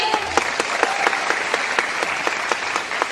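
An audience breaks into steady clapping at an event, with a dense, even patter of many hands that carries on throughout and fades slightly at the end. No voices rise above it.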